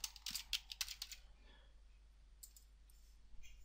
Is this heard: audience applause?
no